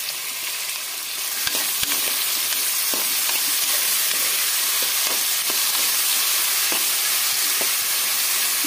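Sliced onions and green chillies frying in hot oil in a pan for a spicy mutton curry, a continuous close sizzle with scattered sharp crackles and pops.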